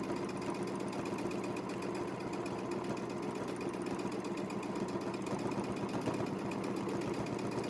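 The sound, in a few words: sewing machine free-motion quilting clamshell fill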